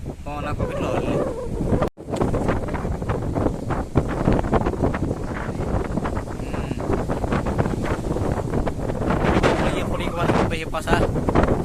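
Strong wind buffets the microphone at sea aboard a boat during stormy weather, a loud continuous roar with gusty rumble and water wash, briefly cut out near the start.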